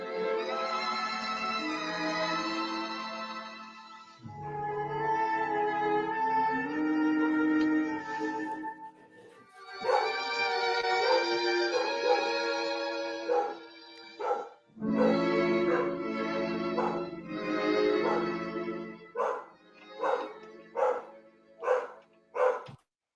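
A dog barks in a Star Trek original series episode, a run of sustained, tonal yelps and whines that rise and fall over long stretches, ending in a string of short, sharp barks.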